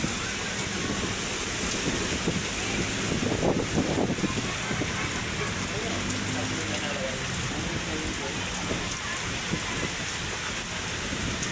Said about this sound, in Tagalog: Lakas ng rain.